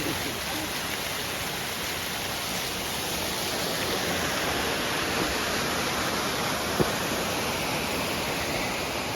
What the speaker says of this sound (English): I think the waterfalls were worth it.